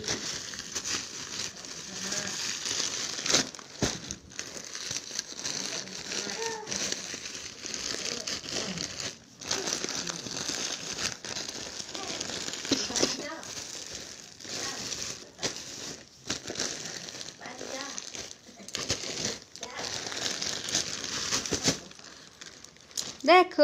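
Parcel packaging opened by hand, a bag ordered online, with steady crinkling, rustling and tearing of plastic wrap close to the mic, broken by short pauses, while someone talks over it throughout.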